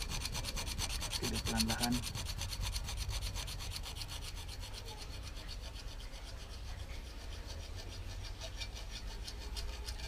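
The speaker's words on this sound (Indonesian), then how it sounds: "Oke, kita guna kikir." A hand file works a nail into an arrowhead during cold forging with no power tools: steady, fairly faint rasping strokes that run continuously, with a brief spoken remark near the start.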